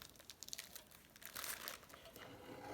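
Quiet paper crinkling and cutting sounds from a paper junk journal pouch being trimmed, with irregular close rustles and snips.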